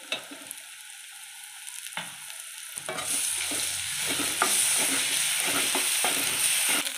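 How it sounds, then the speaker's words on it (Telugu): Fish eggs fry in a pan, first as a light crackle with spoon scrapes, then as a louder, steady sizzle from about three seconds on, close by and with no voices. "ఇలా ఫ్రై చేసుకోవాలి"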